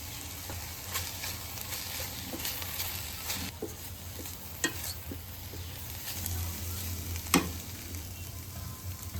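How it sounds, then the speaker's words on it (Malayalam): Grated coconut stirred into mushroom thoran frying in a pan gives a steady low sizzle, with scattered spoon scrapes and clicks against the pan throughout and no voices. "അടുത്തതായിട്ട് 3 ടേബിൾ സ്പൂൺ തേങ്ങ ചിരകിയത് ചേർത്ത് ഇളക്കി മിക്സ് ചെയ്യണം"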